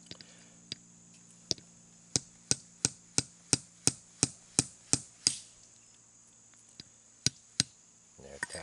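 Hickory nuts are cracked with a series of sharp, loud knocks, about a dozen in a quick steady rhythm, then a few scattered strikes, at close range.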